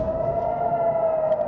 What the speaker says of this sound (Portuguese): pelas buzinas dos engarrafamentos e pelas sirenes das ambulâncias